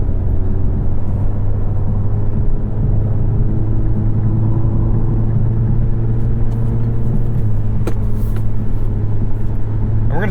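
A 2021 Infiniti Q50 400 Red Sport AWD picks up speed on the highway, its steady engine drone and road rumble holding loud and continuous throughout, with a slight rise in pitch as it accelerates.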